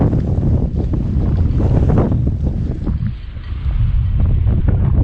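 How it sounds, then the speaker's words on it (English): Strong wind buffeting the microphone at a stationary boat dock at Safe Harbor, Riviera Beach, loud rumbling gusts that dip briefly before surging again. "A little bit of a windy day."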